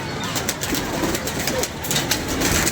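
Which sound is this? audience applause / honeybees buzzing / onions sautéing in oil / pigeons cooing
pigeons cooing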